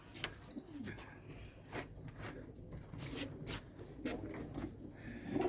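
Soft cooing of a flock of about 350 pigeons in Old Delhi mingles with wing flutters and rustling, a busy, fairly faint flock sound with no talking.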